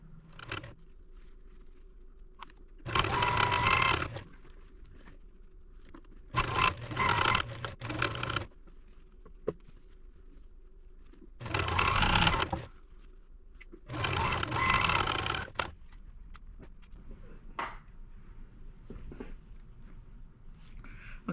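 Domestic sewing machine stitching quilt pieces of a jelly-roll baby quilt, heard in four or five separate loud bursts of whirring, each a second or two long, with quiet pauses between them.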